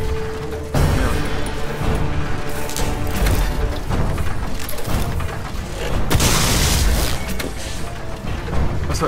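Weapons fire in the steampunk mech game Ironcast, with dense mechanical clanking, ratcheting gear noises and heavy booms. The sound is loud and continuous, with no voices.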